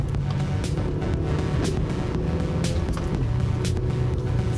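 A car on a road test is driven briskly, with a loud, continuous engine and road roar up close and a few sharp ticks and knocks breaking through the steady drone.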